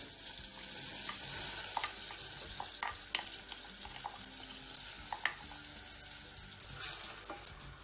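Onion going into foaming fat in a pan, frying with a steady broadband sizzle and a few sharp spatters and stirring clicks, close and alone without talk.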